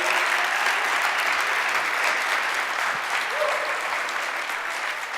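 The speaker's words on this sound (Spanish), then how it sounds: "Dele un aplauso, déselo fuerte" A church congregation at a prayer service breaks into loud, sustained applause, a thick continuous roar of many hands that stays strong and slightly fades toward the end, with crowd voices mixed in.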